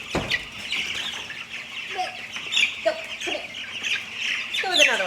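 Cornish Cross meat chickens about two weeks old clucking and chirping close by, a steady chorus of short calls and peeps running throughout, with no talking.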